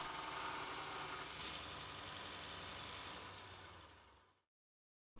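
A Robert Sorby Pro-Edge belt sharpener runs with a steady close whirring drone, its tone shifting partway through, then winds down and falls silent after about four seconds.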